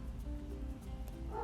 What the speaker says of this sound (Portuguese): me desculpa o cachorro latindo